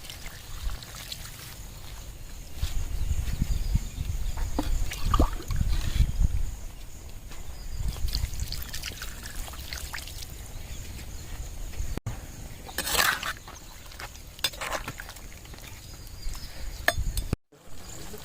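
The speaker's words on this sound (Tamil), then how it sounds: "இப்போ காடை வேகிறதுக்கு தண்ணி ஊற்றிடலாம்." Water poured into a clay pot of quail being cooked for a clay-pot biryani, heard as soft low splashing and trickling, with a few light clinks of the pot and utensils.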